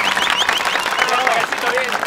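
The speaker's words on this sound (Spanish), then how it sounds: "¡Aplaudan, señora!" Brief burst of audience clapping at a baby shower clown show, lively and close, mixed with shouting voices and laughter over the applause.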